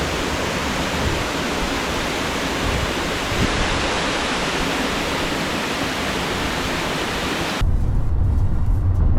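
A waterfall roars as a loud, constant rush of water, broad and unbroken, shifting slightly in tone near the end.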